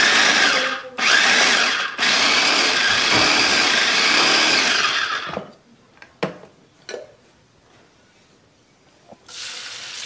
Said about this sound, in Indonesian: bisa pakai chopper kayak gini biar lebih praktis